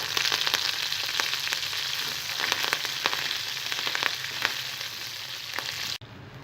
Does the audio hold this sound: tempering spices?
yes